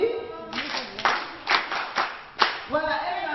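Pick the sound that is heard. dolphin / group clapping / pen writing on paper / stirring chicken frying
group clapping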